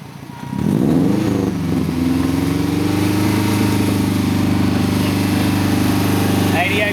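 A Subaru Liberty's engine fires up and revs sharply, then settles into a loud, steady idle with a deep harmonic hum, close to the microphone and sustained for several seconds.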